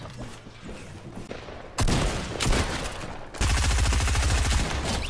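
Rapid bursts of automatic gunfire in the video game Fortnite, starting with a short volley and swelling into a loud, sustained fusillade of close shots with no talking.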